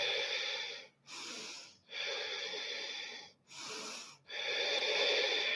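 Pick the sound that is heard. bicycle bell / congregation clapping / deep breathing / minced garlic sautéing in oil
deep breathing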